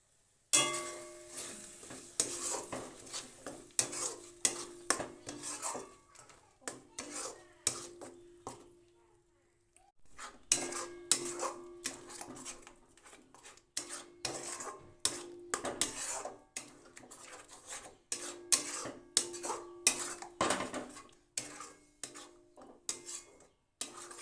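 Bean mash with salt and sugar is stirred in a bowl, a run of faint irregular clinks and taps of utensil against the dish, pausing briefly midway.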